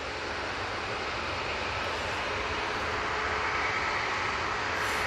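An EasyJet airliner departing Manchester Airport for Oslo makes a faint, even engine roar that runs unbroken for the whole stretch, distant and alone without voices.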